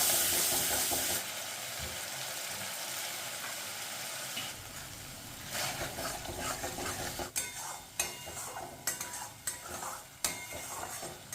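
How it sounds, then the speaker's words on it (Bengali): Spices with turmeric and salt are sautéed in oil in a pan for a cauliflower dish; a soft sizzle gives way to repeated scraping and stirring strokes, with irregular clinks of a spoon against the pan. "দিয়ে ভালো করে মশলাগুলোকে কষিয়ে নেব।"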